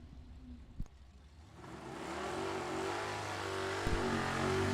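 At a drag race, a 78 Chevrolet Nova and a 79 Ford Mustang launch together. After a quiet start with a sharp knock, engine roar builds from about two seconds into a loud, sustained, rising drone.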